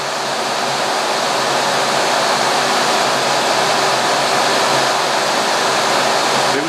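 A laser cutter in cutting mode making twenty successive passes over plexiglass to heat it for bending, a steady, loud, broadband rushing hiss with an even level throughout and no voices.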